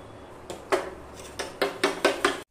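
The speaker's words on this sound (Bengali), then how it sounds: "তারপর টক দইটা নুন চিনি দিয়ে ভালোভাবে ফেটিয়ে নিতে হবে।" Sour yogurt being beaten with salt and sugar in a bowl, a run of sharp clinking strikes that speed up into a quick rhythmic series of about six hits, close and clear.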